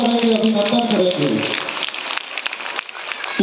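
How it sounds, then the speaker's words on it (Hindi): Applause rises from the audience at a Hindi poetry gathering (kavi sammelan) at Shri Kalki Dham, welcoming a revered guest; broad clapping continues throughout under a loud announcer's voice that fades partway. "जोरदार तालियों से हम स्वागत करेंगे, अभिनंदन करेंगे।"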